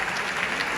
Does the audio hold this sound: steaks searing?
no